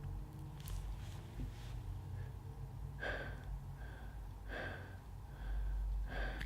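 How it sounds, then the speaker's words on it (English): Fast, rhythmic breathing exercise: quick, forceful breaths come in an even series of puffs, close and fairly loud over a low background rumble, with no talking. "We'll do a few minutes of this faster breathing"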